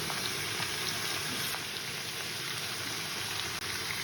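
Small mourola fish chorchori curry sizzles in oil in a pan with a dense, steady crackling hiss that stays even throughout, without talk.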